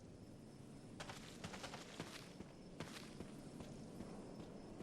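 A zombie shuffles close by in the dark of the Resident Evil Remake (Jill's campaign): scattered soft footfalls and scuffs at an uneven pace over a steady ambient hum, with no talking.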